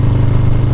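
An FXR motorcycle engine runs in good condition, a loud, close, steady low rumble with a rapid even pulse over a brief moment.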